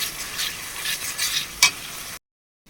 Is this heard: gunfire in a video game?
no